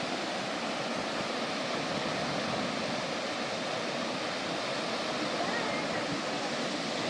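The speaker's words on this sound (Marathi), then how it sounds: "हा असा साईडला रोड साईड हा वॉटरफॉल आहे, मिनी वॉटरफॉल" A small roadside waterfall near Rajapur in the Konkan runs in full monsoon flow, making a dense, steady rushing roar of falling water that stays even and loud throughout with no breaks.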